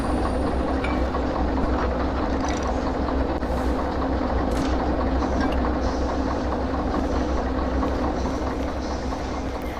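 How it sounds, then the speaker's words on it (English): Continuous heavy rumble of a locomotive and freight cars rolling along the tracks in the Derail Valley game, loud and close, with a steady low drone and faint rhythmic rail clatter throughout. "being in VR in between an oncoming locomotive and train cars"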